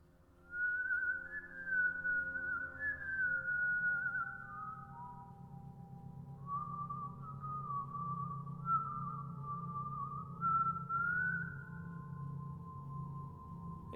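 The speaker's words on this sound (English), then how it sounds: "we heard the whistling" A lone wavering whistle drifts up and down in slow, thin phrases over a low hum, pausing briefly and returning, fairly quiet and distant.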